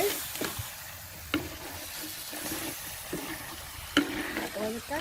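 A Jaffna-style coconut crab curry sizzles in a pan as it is stirred, with scraping and clinking of the spoon at intervals over a continuous frying hiss.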